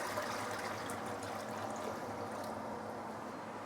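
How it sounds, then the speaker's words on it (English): Filtered water pours steadily into a pot for Teochew seafood porridge, a soft continuous rushing splash that stays even and moderately quiet throughout. "we are going to add in some filtered water"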